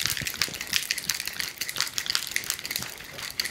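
A shaken Alligator drink pouring into a mug, a rushing, splashy gush that carries on for a few seconds at moderate loudness, with brief bubbly surges.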